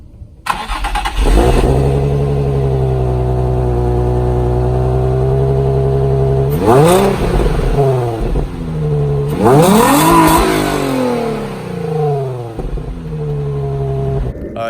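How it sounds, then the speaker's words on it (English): A Nissan 350Z engine starts and settles into a steady, deep idle, then revs twice in sharp rising and falling sweeps, loud and close. "that was me revving the engine"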